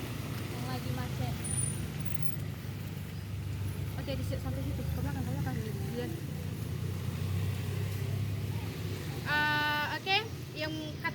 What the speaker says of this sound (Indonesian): Ini dia macet guys, seperti di depan mata kita yang lagi macet.